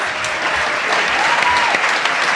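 Diners at a dinner celebration applaud for the sheriff, a thick, even crackle of many clapping hands that holds at a fairly loud level throughout, with faint murmurs beneath.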